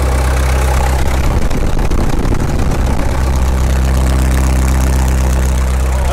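A Caterpillar D2 bulldozer's engine, restarted after sitting for 20 years, runs loud and close in a steady, even idle with a rough mechanical knock throughout.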